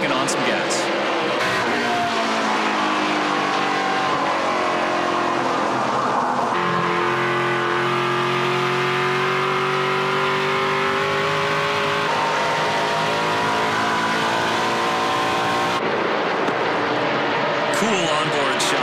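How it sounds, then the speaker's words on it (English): NASCAR Pinty's Series race cars at New Hampshire roar around the track, with loud engines rising and falling as cars pass close by and a commentator speaking over them. "I enjoy the sounds as much as I do the views that we get from these race cars"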